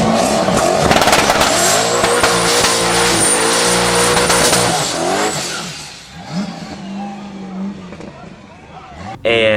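A boosted Pontiac Trans Am roars loudly and close, its engine revving hard with rising and falling pitch, a sharp tire squeal layered on top, before the noise settles lower and ends with a sudden thump.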